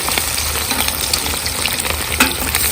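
Potatoes frying in oil in a kazan alongside lamb, a dense, steady sizzle and crackle with occasional stirring knocks, close and continuous.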